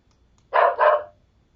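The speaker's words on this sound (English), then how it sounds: "I hope that you got that it was a dog barking." A recorded dog bark plays back as a single close, fairly loud double woof, two quick bursts in under half a second, alone in near silence.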